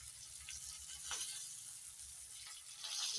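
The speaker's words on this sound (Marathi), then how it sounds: "आता हे परत मी परतून बघते" Bangda (mackerel) frying in a pan, Malvani style: a steady, quiet sizzle of hot oil with a few faint stirring scrapes, alone with no voices.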